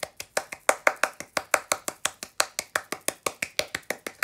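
Rapid, steady hand claps ring out at about five per second, sharp, close and loud, with no voices over them.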